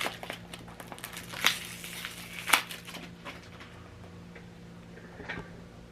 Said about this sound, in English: I'm going to open this plastic up because you won't be able to see it in the camera with the plastic